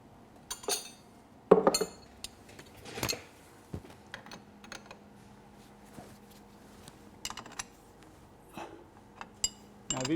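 A wrench snugs fittings with copper crush washers on a fuel pump and filter of a Mercedes R107, heard as sparse, quiet metallic clicks and clinks spread out with long pauses between them.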